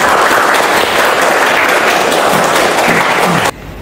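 Audience applause for presenters in a university classroom, loud dense clapping that continues steadily and then cuts off abruptly.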